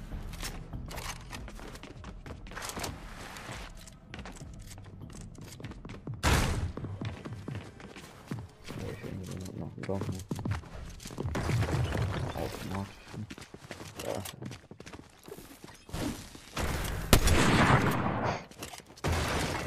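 Gunfire and thuds from a Fortnite match, with bursts and single shots scattered throughout and louder cracks near the end, mixed under game effects and someone talking in German.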